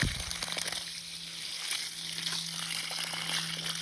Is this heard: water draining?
yes